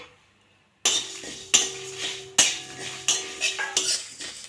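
Dried red chillies, coriander, fennel and cumin are dry-roasted in a wok over a gas flame. A metal spatula scrapes and clinks against the pan in repeated strokes, loud and close, after a brief quiet start.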